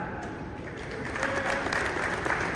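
An audience at a live podcast taping claps in answer to a five-figure salary guess, a dense roomful of applause that builds after a quieter start and stays steady to the end.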